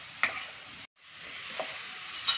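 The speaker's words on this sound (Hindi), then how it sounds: "खूब अच्छे से मिक्स कर देना है" Apple chaat with chaat masala being mixed in a pan over a soft continuous sizzle, with a few light spoon scrapes and a brief dropout partway through.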